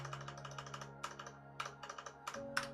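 Code being typed on a computer keyboard, a steady run of quick, light key clicks in an irregular rhythm with a few sharper strokes, close and fairly quiet over a low steady hum.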